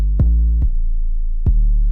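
An 808 bass line programmed in FL Studio, played without its slide note: three deep, booming hits with a sharp attack and long sustained low tail, loud and alone.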